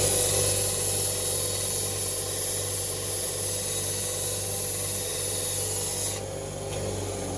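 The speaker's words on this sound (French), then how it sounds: "Donc cette machine elle sert à poncer les férules" A sanding machine grinds the ferrule ends of golf club shafts in a clubmaker's workshop, giving a steady, loud abrasive whir with a constant motor hum that drops slightly near the end.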